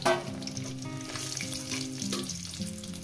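An egg fries in oil with a loud, continuous sizzle and crackle that stays steady throughout, close up and with no voices.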